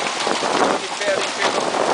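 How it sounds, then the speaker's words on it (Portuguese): Hail begins to fall in Sertãozinho, São Paulo, Brazil, during a storm, a dense, steady patter and clatter of stones on surfaces, loud and close, with a voice from a campaign loudspeaker audible over it. "Começa a cair pedra em Sertãozinho."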